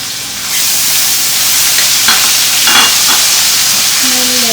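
Garlic and ginger paste hits a hot pan for egg curry and erupts into a loud, steady sizzle and hiss, with a few stirring scrapes and a faint tonal hum near the end.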